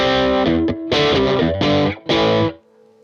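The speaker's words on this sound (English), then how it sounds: "Or more overdriven tones." Distorted electric guitar chords played through an overdriven amp ring out in several bursts with brief pauses, thick and overdriven, then the last one fades out.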